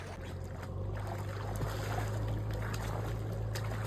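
River water flowing in a steady broadband rush with a low rumble underneath, continuous and fairly close, with no voices over it.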